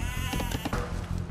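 Sheep bleating in Age of Empires II: Definitive Edition, a short wavering bleat mixed into game music and ambience.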